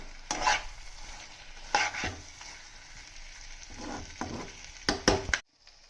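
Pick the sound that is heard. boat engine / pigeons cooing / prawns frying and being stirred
prawns frying and being stirred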